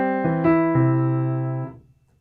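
Piano phrase of a few overlapping notes in a beginner's arrangement of a song, left-hand triplet set against right-hand eighths, clear and close, ringing out and fading after about two seconds, no talk.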